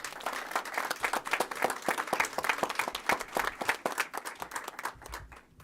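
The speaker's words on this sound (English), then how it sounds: "Let's give her a round of applause." A room full of people applauding at a press conference, steady rapid clapping that fades out toward the end.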